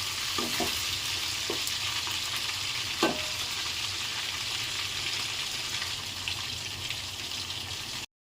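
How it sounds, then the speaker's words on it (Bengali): Onion sizzles and fries in oil left over from frying fish, with a steady crackling hiss, a few sharp stirring scrapes and one clunk of a utensil, close by and with no talk. "মাছ ভাজার তেলের মধ্যে পেঁয়াজটা ভেজে নিলাম"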